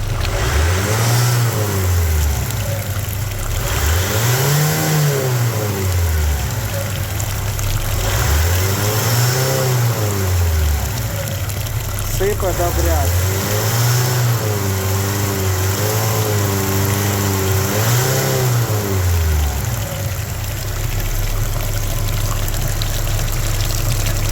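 A Skoda Octavia Tour engine with a dirty cooling system that is being flushed is revved five times in a steady rhythm, each rev swelling and falling back close up over a constant hum and a watery wash, with no talking.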